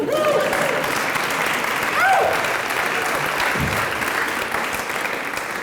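An audience at a university medical school's tenth anniversary ceremony breaks into sustained applause, a steady wash of clapping filling the room with a few whoops rising over it.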